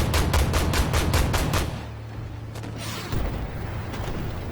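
Rapid autocannon bursts from an AMX 10P in Armored Warfare, about eight evenly spaced loud shots in quick succession, then a low mechanical hum and another muffled report.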